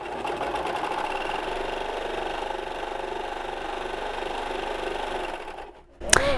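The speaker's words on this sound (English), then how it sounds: "So I put it in here in the serger under the foot," A serger stitches a curved face mask seam in a steady, fast mechanical whir lasting several seconds, then winds down and stops with a small click.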